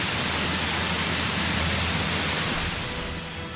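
Rushing waterfall in a temple area of the video game Tales of Berseria, a steady, dense roar of falling water that fills the whole stretch without pause and eases off slightly at the end.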